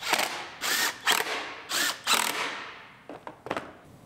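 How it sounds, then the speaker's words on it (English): A ratchet tightens bolts on the brackets of a 2019 GMC Yukon Denali, several close rapid clicking bursts in a rhythmic series, the last few quieter and shorter. "Tighten those down."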